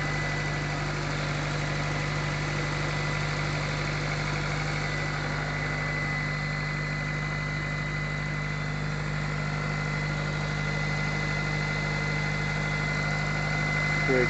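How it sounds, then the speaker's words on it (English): A 1995 GSR engine idles after a cold start, a steady, continuous mid-pitched hum with faint vibration that holds evenly throughout at close range, with no talking. "GSR motor."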